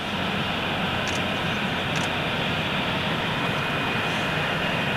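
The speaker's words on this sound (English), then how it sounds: "Debbie Speller, great takeoff sound" A jet aircraft roars steadily during takeoff at Cologne Bonn Airport, a loud, broad, continuous engine rumble heard from a distance without voices.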